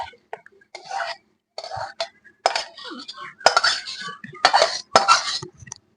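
Aloo posto, potatoes cooked with poppy seed paste, being scraped from a wok onto a plate with a metal spoon, making short bursts of clinks and scrapes separated by pauses, with a cough or throat clearing in between.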